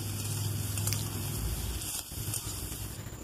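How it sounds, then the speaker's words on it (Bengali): Eggplant pieces fry in mustard oil in a kadai, a dense continuous sizzle and crackle that stays loud and even throughout with no talking. "কড়াইতে আর একটু তেল দিয়ে আমি বেগুনগুলোকে এবার ভেজে নিচ্ছি।"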